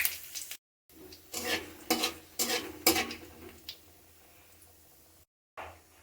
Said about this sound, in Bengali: এবার আমি ফোড়নে দিয়ে দিব একটু জিরা,